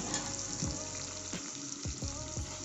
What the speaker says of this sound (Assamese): পিঁয়াজ ফ্ৰাই হৈ আছে